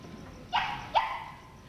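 Two sharp dog barks about half a second apart, fairly close, over a quiet background.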